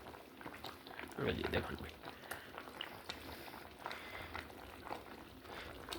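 Fish slid into an already cooked, simmering curry, with a soft splash and gentle bubbling and sizzling at close range while someone talks over it.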